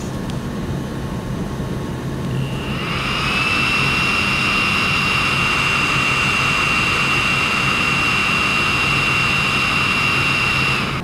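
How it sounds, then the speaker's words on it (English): A Creality Ender-5 S1 3D printer with stock fans gives a steady, loud whirring hum with a high whine that kicks in after a couple of seconds and holds constant, close up. "let me turn this on and you can get an idea of what it sounds like"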